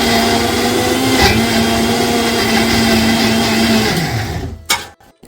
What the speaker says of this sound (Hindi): और अब इसको मिक्सी करते हैं रायता बनाने के लिए